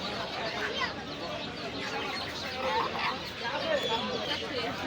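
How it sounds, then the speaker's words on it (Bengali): Native chickens clucking at a busy bird market, several birds heard close by under a constant crowd murmur and indistinct voices. "এটা সম্পূর্ণ দেশি মুরগি এটা আছে।"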